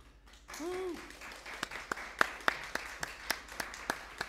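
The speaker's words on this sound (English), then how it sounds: "a warm virtual White Horse Live round of applause for the man of few words, Dr. Daniel Weiser" Sparse, scattered claps from a small audience during a live-streamed White Horse Live chamber concert. Sharp individual hand claps land roughly every few tenths of a second, with a brief tonal sweep near the start.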